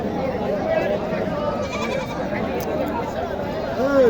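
Goats bleat at a busy traditional goat market in Naogaon, several wavering cries rising over a constant crowd murmur of people talking and bargaining nearby.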